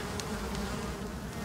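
Bees in the survival video game Icarus give a constant dense buzzing drone, steady and close with no pauses or talk.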